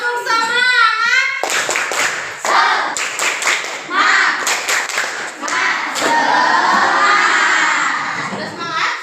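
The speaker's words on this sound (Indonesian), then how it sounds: "Kita tepuk semangat dulu." Children in a classroom do a rhythmic spirit clap led by their teacher, sharp patterned hand claps mixed with loud group shouting and chanting, after a brief sung or called opening phrase.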